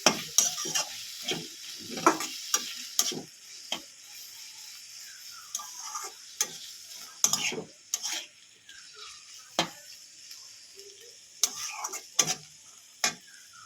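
Flat beans tossed with Kashmiri red chili powder and turmeric in a pan, a run of irregular spatula scrapes and clinks against metal over a faint sizzle, close and clear.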